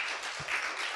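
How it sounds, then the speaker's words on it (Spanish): Brief burst of audience applause for two journalist guests at a talk show, a dense, steady wash of clapping heard for about a second. "Para quien pido un aplauso."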